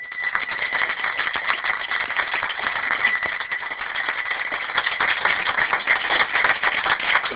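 A crowd at a street-performance show applauds, a dense, continuous rattle of many hands clapping with a bright, slightly harsh tone, steady and sustained without pause.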